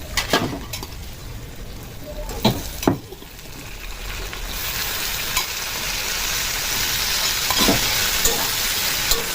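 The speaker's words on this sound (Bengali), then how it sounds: "কচুরলতি আর পেঁয়াজটা সুন্দর করে ভাজা হয়ে যাবে।" Taro stolons (kochu loti) with soft onion and green chilli sizzle steadily in a pan, a broad hiss that grows fuller over time, with a few sharp scrapes and clinks from stirring early on.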